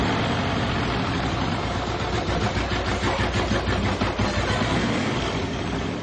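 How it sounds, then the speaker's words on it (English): A Honda CX500 motorcycle engine cranks over on its starter and catches after a few revolutions, settling into a loud, rough, pulsing run heard up close. "hitting the starter button and hearing the motor crank over. But then to hear the thing run, it actually started after a few revolutions"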